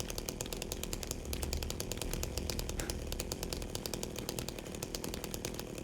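A chainsaw runs continuously in the video game Silent Hill 2, a loud, rough, buzzing engine roar with rapid chattering pulses held steady throughout, no voices over it.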